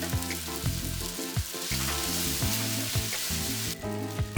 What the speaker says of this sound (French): faire revenir l'ail ciselé une dizaine de secondes, verser les pâtes de riz